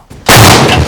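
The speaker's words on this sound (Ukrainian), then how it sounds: "Постріл!" A single loud gunshot blast in combat near Chasiv Yar bursts in after a brief quiet moment, then rolls into a sustained booming echo.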